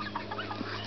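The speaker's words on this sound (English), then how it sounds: "Those chickens are intense." Agitated chickens cluck in a short, busy burst, several birds overlapping at close range with no talk over them.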